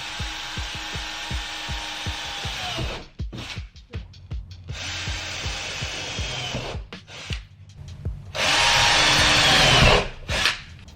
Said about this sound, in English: drilled the holes in each one